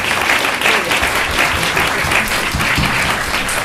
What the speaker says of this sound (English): So please give a round of applause, please, for this great panel of speakers.